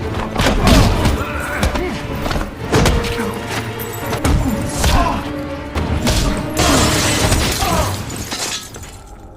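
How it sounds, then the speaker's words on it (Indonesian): Heavy booms and thuds of a bomb explosion in a film roll through a dense, chaotic mix of crashing, shattering debris and rumble, loud and sustained like a large blast sequence. "bom tersebut akhirnya meledak"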